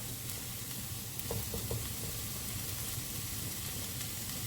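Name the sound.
tomato puree cooking in a pan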